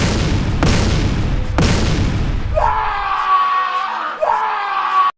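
Two heavy booming explosions blowing up a village in quick succession, loud and close, followed by a dramatic rising sweep with ringing tones.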